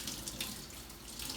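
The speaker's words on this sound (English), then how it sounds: "And then you want to use cool water and give them a good thorough rinse." Cool tap water runs steadily into a kitchen sink while fresh cilantro is rinsed under the stream, a continuous splashing hiss with no speech.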